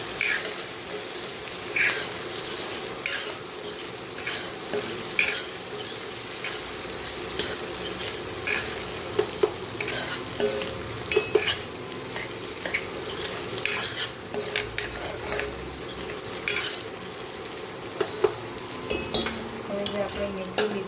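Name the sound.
stirring spices into frying fenugreek in a pan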